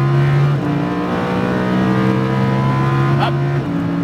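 A Lamborghini Huracan on a race track holds a loud, steady engine drone with a sustained tone that shifts pitch briefly midway, close and without talk over it.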